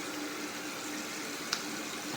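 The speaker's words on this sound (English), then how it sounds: "do a quick rinse, cold water." Cold water running from a tap during a rinse after a close shave, a steady soft wash of flow with one brief splash partway through, no voices.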